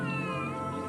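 A cat gives one drawn-out, tonal meow that holds steady for about a second, close and clear with no voices over it.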